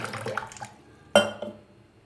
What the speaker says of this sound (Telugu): ఇప్పుడు ఇది చూడండి నీళ్ళు పోసేసాము